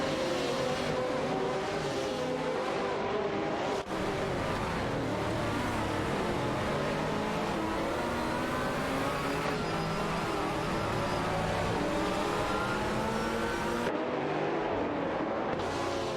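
Race cars in an AI racing game roar continuously around the track, engine notes rising and falling as cars pass, loud and steady throughout with no voices.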